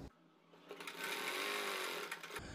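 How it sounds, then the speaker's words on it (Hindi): A sewing machine stitches a seam along cloth while a neck design is made, running in a short burst of a second or two with a fast, even whirr, fairly quiet and close. "इस कपड़े के बराबर बराबर पूरी सिलाई लगा लेंगे"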